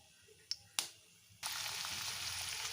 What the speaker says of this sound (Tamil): இந்த வெங்காயத்தை போட்டு நல்லா செவக்க வதக்கலாம்ப்பா